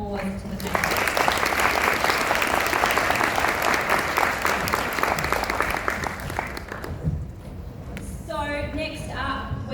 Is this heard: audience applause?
yes